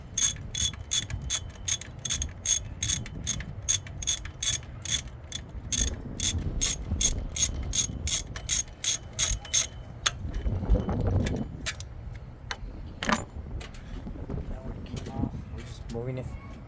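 Ratchet working on the upper idler pulley of a 1998 Lexus GS400, giving rapid, close clicking bursts with brief pauses, then slower scattered clicks and metallic handling noises toward the end.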